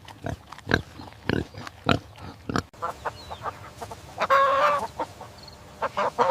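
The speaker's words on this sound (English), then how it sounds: "This is a medium black farm pig." A medium black farm pig grunts in a series of short, loud, rhythmic bursts close by, while chickens cluck in the background and one squawk rises partway through.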